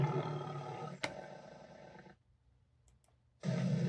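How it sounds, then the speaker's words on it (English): A tiger roar sound effect opens the introduction to a knife segment: a loud, sustained roar with a sharp burst near the start breaks off, leaving a quiet gap before a second roar begins. "It's really hard to find a really good tiger roar"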